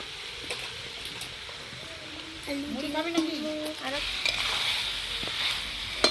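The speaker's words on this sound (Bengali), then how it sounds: "আলুটা দেওয়ার পরে কিছুক্ষণ নাড়াচাড়া করে নিয়েছি" Potatoes are stirred into a frying desi chicken curry, producing a continuous close sizzle with spatula scrapes and stirring noises, while a voice briefly speaks partway through.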